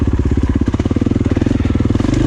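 A KTM or Husqvarna four-stroke dirt bike engine, 350 to 500 class, chugs close and loud while riding, with rapid, even pulsing firing beats that rise slightly toward the end.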